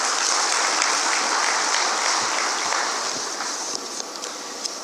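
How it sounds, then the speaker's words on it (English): Sustained applause from a conference audience at a non-oil export summit, a steady dense wash of clapping that holds for the whole stretch and eases slightly toward the end, with no talk over it. "Again, please give them a round of applause."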